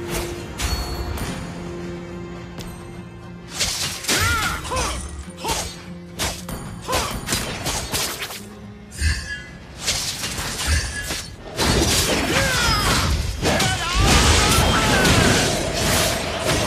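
Turret destruction in the League of Legends video game, with shattering crashes, booms and thuds layered over dense game effects and announcer-style voice lines throughout.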